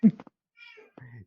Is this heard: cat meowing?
yes